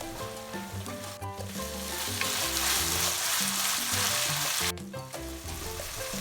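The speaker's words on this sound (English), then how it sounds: "Add the ground pork and cook it until pork changes color." Ground pork sizzles and fries with chili powder in a pan for a spicy Korean-style mapo tofu, giving a steady, bright crackle throughout while background music plays underneath.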